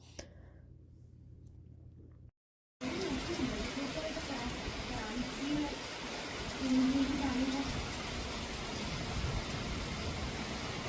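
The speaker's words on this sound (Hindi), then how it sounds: "बारिश की और ये पानी की आवाज़ जो है बहुत ही सुकून देती है" Steady rain pours down with a dense hiss, after a short quiet stretch, and a faint voice is heard under it at times.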